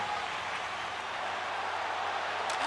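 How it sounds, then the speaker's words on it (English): A packed hockey arena crowd during an overtime game roars as a steady, dense wash of cheering and noise, distant and sustained throughout with no distinct voices standing out. "Listen to this crowd."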